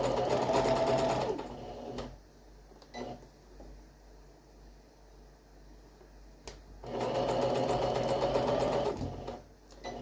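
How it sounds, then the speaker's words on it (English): A sewing machine stitches a bolster tube to fabric circles in two loud, steady bursts of rapid needle whir at the start and end, with a quieter pause and a few clicks between them. "I'm stitching in just about a 1/4 inch"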